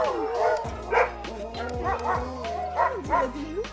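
Sled dogs in Lapland bark and yip excitedly in a dense, overlapping chorus of sharp, high calls and whines, close and loud, with voices murmuring faintly underneath.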